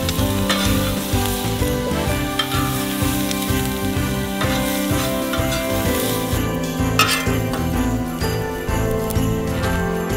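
Vegetables fry in a pan with a dense, continuous sizzle, close and loud, with occasional light clinks of a utensil against the pan.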